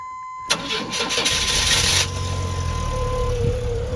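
A Chevrolet S10 pickup truck engine cranks briefly and catches, then settles into a steady idle, close and loud against a faint background tone.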